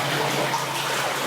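Water trickling and running inside an abandoned 910-metre tramway tunnel bore, a steady hissing flow that stays even and close throughout, with no voices.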